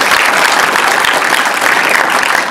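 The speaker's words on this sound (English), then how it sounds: "Please continue the applause for a lovely actress who wasn't able to be here tonight" Dense, steady audience applause fills the room at a cast and crew Q&A after a short-film screening, loud and continuous with no voices standing out.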